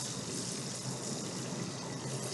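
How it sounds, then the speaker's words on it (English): Chicken pan-searing in oil with a little too much water gives a loud, steady sizzle thick with rapid crackling pops that runs the whole time, with no talking. "It is popping a lot."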